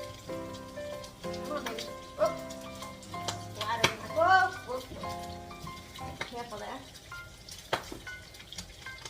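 Topping for a seafood chowder fries in grease in a pan, a soft crackling sizzle with scattered pops that runs under a person talking over it.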